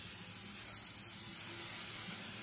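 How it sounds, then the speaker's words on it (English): A can of sealant sprays over a diamond painting in a steady, close hiss that runs unbroken throughout with no pauses or voices. "we're going to spray it again."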